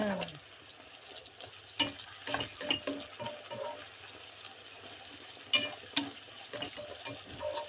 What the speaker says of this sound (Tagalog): Naluluto na siya.